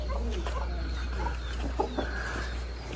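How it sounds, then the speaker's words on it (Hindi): White Sindhi rooster clucking in a rural farmyard animal enclosure, a few short clucks over a steady low background hum, moderately near but not loud. "इसे सिंधी मुर्गा कहते हैं, सिंधी मुर्गा।"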